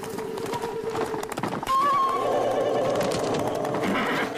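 A horse whinnies loudly partway through, over a steady background of hoofbeats and rustling outdoor noise.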